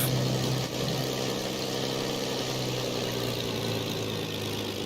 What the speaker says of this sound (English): I have to keep the engine idling higher revs.